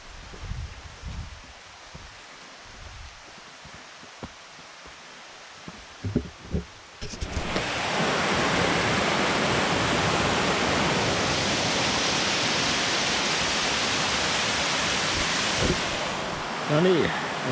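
A mountain stream runs across a hiking trail in Norway. After a few seconds of quiet outdoor sound and footsteps, a loud, steady rushing of water takes over and continues close by to the end.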